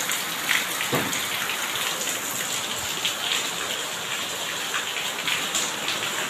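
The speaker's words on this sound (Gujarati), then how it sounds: "વરસાદ પણ અત્યારે ખૂબ પડી રહ્યો છે।" Heavy rain pours down steadily, a dense hiss of drops hitting surfaces close by, with no voices.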